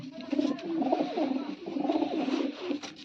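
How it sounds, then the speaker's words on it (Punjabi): A crested pigeon with a blue beak coos at close range, a run of soft, throaty rolling calls repeated in quick succession with short pauses between phrases. "ਇਹ ਕਬੂਤਰ ਆ ਦੇਖੋ ਸਿਰ ਤੇ ਟੋਪੀ ਆ ਖੱਟੀਆਂ ਅੱਖਾਂ ਦਾ ਨੀਲੀ ਨੋਕ ਹੈ"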